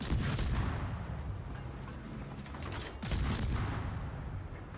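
Naval gunfire in World of Warships: heavy booming salvos roll out in two bursts, one at the start and another about three seconds later, with rumbling decay between them.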